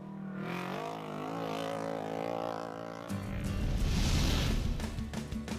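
The Neil Woolridge Motors Polaris side-by-side race vehicle roars past during testing, its engine note whining and rising in pitch, then shifting into a louder, rougher growl as it draws closer.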